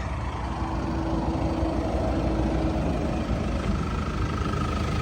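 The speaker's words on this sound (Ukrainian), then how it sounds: "Мотор працює чітко, рівненько" Mercedes-Benz AMG E220 with a 2.0-litre 143 kW diesel engine idling, a steady, even low rumble with a faint hum, close by and continuous with no talk.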